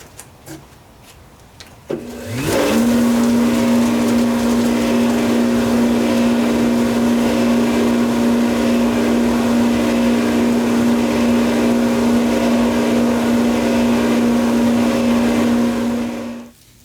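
After a brief click, a Shopsmith dust collector motor whirs up and runs with a loud, steady hum and airy rush, then cuts off at the end.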